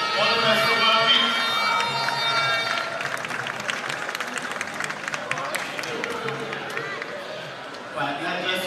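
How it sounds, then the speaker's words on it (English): A crowd at athletics trials applauds a club captain, with scattered clapping and cheering mixed with busy crowd chatter and talk, loudest at the start before thinning into background murmur. "Give her a round of applause"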